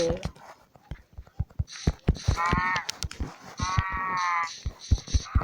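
Minecraft Pocket Edition farm animals, with cows mooing and sheep bleating in drawn-out nasal calls among clicky game sounds and short thumps, with no talking.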